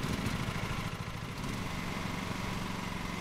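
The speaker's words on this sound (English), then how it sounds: "Let me see if I can restart the engine." Lawn mower engine running in Lawn Mowing Simulator, a steady loud mechanical drone with a brief dip near the start before settling into an even, continuous hum with no talking.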